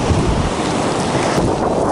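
Strong wind buffets the microphone on a Sea of Japan beach near Nakhodka, a loud continuous roar with surf-like wash and no voices.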